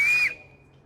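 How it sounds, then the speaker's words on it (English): A single sharp, shrill whistle blown on an acorn cap in a wilderness survival setting lasts under a third of a second, then cuts off into quiet. "you can make a whistle out of a 7-Up, well, any kind of soda can, doesn't matter what the brand is, or acorn cap."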